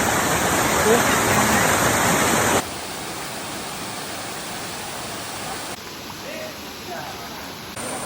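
A steady, roaring rush of falling water from the Parivara waterfall fills the air, loud at first and then slightly softer, continuing without a break.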